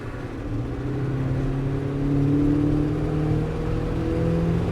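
A carbureted engine is revved from idle as the throttle opens, a steady mid-pitched roar that climbs and swells, peaking midway, then holds strong without any talk over it.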